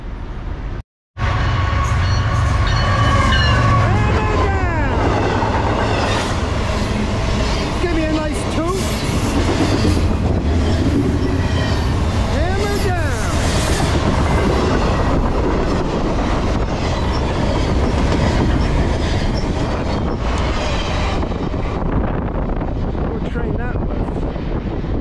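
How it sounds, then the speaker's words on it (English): A freight train rolls past on the Lehigh/CSAO line, a loud continuous rumble of railcars with wheel squeal and clickety-clack, mixed with wind buffeting on the microphone, after a brief quiet start. "Last train of the day."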